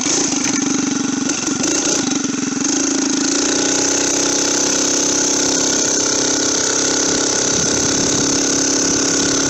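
A motorized bicycle engine runs steadily while riding, a loud, close, buzzing drone at a constant pitch, slightly rougher in the first few seconds and then settling into an even hum, with no talking.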